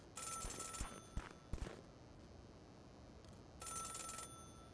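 A telephone rings in the video game Celeste, its electronic bell sounding in two bursts separated by a few soft thumps and clicks, fairly quiet.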